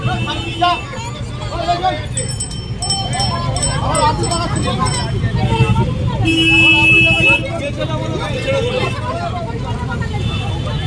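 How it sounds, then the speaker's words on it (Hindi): Congested street in a full traffic jam, with repeated short car horn toots over dense engine rumble and crowd babble, people talking loudly nearby throughout. "पूरा ट्रैफिक जाम हो गया"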